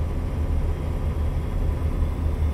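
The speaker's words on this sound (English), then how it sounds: "listen to the sound of the engine" Truck engine in American Truck Simulator drones as a steady, low rumbling hum, constant and unbroken with no voices over it.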